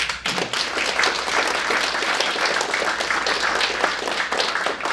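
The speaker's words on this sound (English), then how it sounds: "let's give them another round of applause." Audience applause fills the room at a distinguished alumni luncheon, a dense, steady wash of many hands clapping that holds loud and even throughout.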